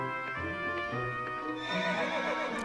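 A Pegasus in Fire Emblem Awakening gives a drawn-out whinny that rises and swells toward the end, heard close and fairly loud over a low background hum, with no talking.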